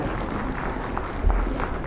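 Audience applause fills a university investiture ceremony inaugurating Walter V. Wendler, a steady, dense wash of many hands clapping that swells slightly toward the end.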